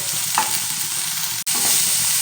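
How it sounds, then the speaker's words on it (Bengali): Small pieces of eggplant frying in oil over a high-to-medium flame, a loud close crackling sizzle that breaks off for an instant and resumes, with no voices. "হাই টু মিডিয়ামে রেখে বেগুনগুলো ভাজতে হবে"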